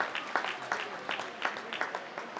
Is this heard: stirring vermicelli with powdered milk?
no